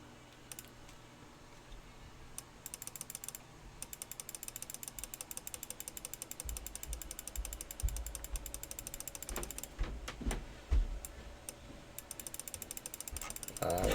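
Rapid runs of small mechanical clicks, steady and close, from a computer mouse being clicked over and over while a book scan is recropped and fixed, with no talking.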